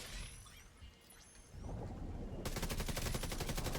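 Assault rifle gunfire in The Division 2 breaks into rapid automatic fire near the end, following a bright shattering crash and steady combat din.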